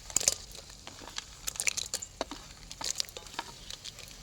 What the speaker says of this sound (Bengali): এখন আমি এর মধ্যে এই ভেজে রাখা কাঁকড়াগুলো দিয়ে দিচ্ছি